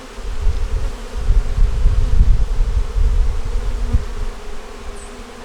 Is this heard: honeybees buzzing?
yes